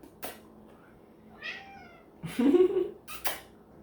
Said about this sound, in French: En tout cas, moi j'ai un chat. Puis il me regarde.